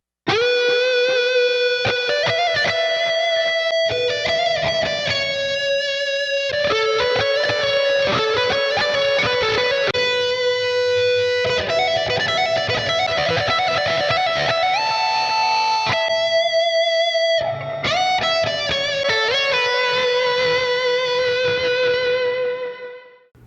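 An electric guitar lead runs through compressor and overdrive pedals into the Archetype Plini amp sim with EQ, delay and reverb, playing sustained singing melodic notes with bends and long echoing tails, alone and continuous.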